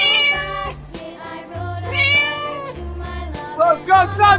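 A cartoon cat meows in a 3D animal slide video game, with bright, clear meow calls rising over upbeat game music and sound effects.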